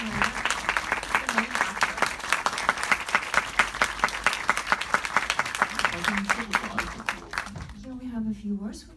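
An audience applauds at a film festival Q&A, welcoming a Kyrgyz film's director onto the stage. The steady, rhythmic clapping tapers off near the end, and a voice comes in.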